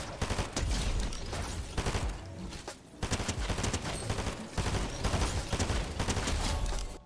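Rapid, sustained bursts of Thunderburst SMG fire with a laser sight in Fortnite, loud and dense with brief gaps between volleys and no talking.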